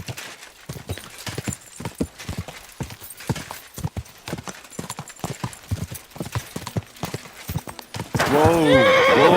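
Horse hooves clop in an irregular trotting rhythm in the game Kingdom Come: Deliverance 2, ending in a loud, close whinny.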